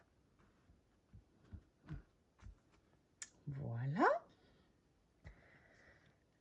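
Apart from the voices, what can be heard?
scissors cutting, loud clicking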